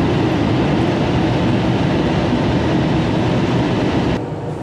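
A loud, steady rumbling roar of a train passing close by, continuous, then dropping slightly in level near the end.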